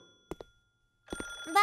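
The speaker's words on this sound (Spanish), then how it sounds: "Suena el teléfono." A cartoon telephone rings in a short ringtone burst after a quiet pause, clear and close, with a brief sound just before it.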